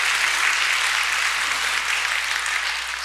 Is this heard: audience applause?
yes